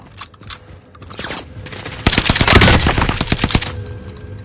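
Video game gunfire in a battle-royale-style match: bursts of rapid automatic shots, sparse at first and then a dense, loud volley for a couple of seconds before tapering off.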